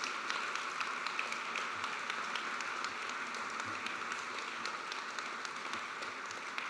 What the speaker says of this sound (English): How about another round of applause for all of our award winners?